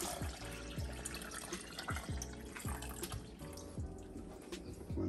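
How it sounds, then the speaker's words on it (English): Water pours and splashes for soursop juice, a continuous close liquid rush with a few gurgling bursts, no one talking over it. "So okay, I put my water in."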